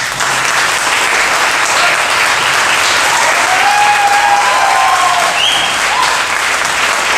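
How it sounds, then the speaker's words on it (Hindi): A congregation at a Christian gathering claps in welcome, a loud, continuous wash of applause lasting about seven seconds, with faint whistle-like tones rising briefly midway. "ताली बजाकर"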